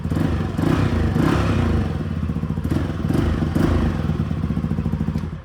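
A Yamaha Aerox 155 V3 scooter engine with an aftermarket exhaust silencer runs loud and close in an enclosed space with a buzzy exhaust note, revving up and easing back a few times.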